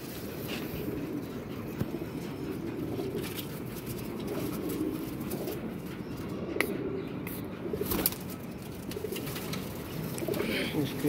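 Flock of pigeons cooing amid a steady broadband hum, soft repeated coos blending into a busy background with occasional sharper calls; a voice speaks at moments over it.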